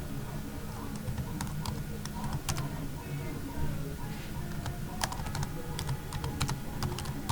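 Fast typing on a computer keyboard while entering text in Word: steady, dense runs of close key clicks with sharp taps throughout, over faint room hum and no talking.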